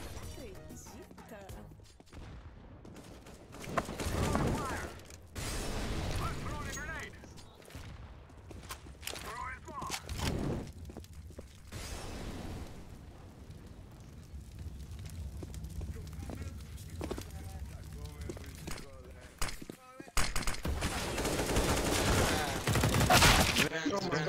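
Gunfire from a video game, with bursts of loud shots and crashes recurring over about twenty seconds, the densest near the end, mixed with excited talk from players.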